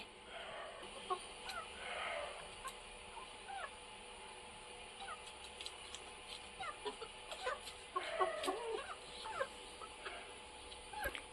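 Scattered soft clucks and short calls from several chickens, fairly faint against a steady hiss, busier toward the end.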